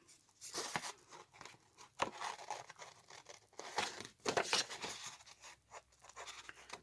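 Quiet scissors snipping through paper flip-flop tags, with irregular cuts and rustling of the tags being handled close by.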